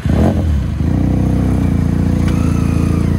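A motorcycle engine idles loudly up close with a steady throbbing rumble, a brief surge near the start and a light clatter running through it.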